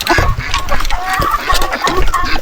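Chickens cluck loudly and close by, several birds chattering in quick overlapping bursts.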